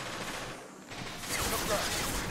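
Gunfire in the sci-fi shooter Mass Effect, a continuous rattling burst that swells louder in the second half, with voices mixed into the combat noise.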